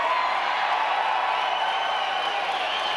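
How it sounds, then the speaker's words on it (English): A TV studio audience applauds on a talk show, with an even, continuous wash of clapping filling the short stretch. "They applaud."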